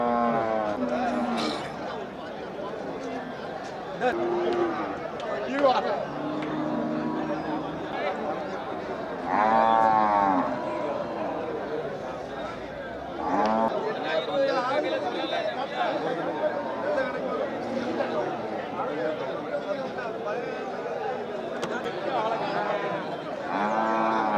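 Cattle low and moo at the busy Melapalayam cattle market, with occasional calls rising over steady crowd chatter and people talking close by throughout.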